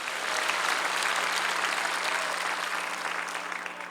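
Dense applause from a large crowd at a church prayer rally for peace and unification in Yongsan, Seoul, a sustained roar of clapping that stays loud and steady throughout.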